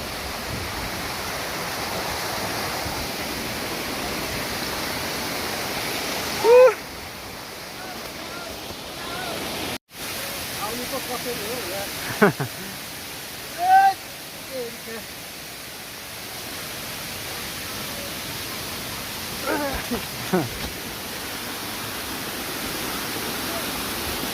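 A waterfall gives a constant roaring rush of falling water, with a few brief voices breaking through the steady wash.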